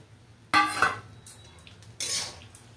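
Soya rice with whole cashews being stirred in a pan, with two short bursts of spoon scraping and clinking against the pan separated by a quiet pause.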